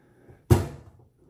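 A toolbox plier drawer slides open once in a single abrupt thunk that fades quickly, close and fairly loud, with no talking.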